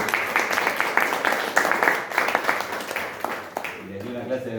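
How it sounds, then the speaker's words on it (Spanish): Audience applause at a church gathering, a fairly close burst of brisk clapping that gradually thins out, ending as a voice starts to speak. "Un aplauso para todos."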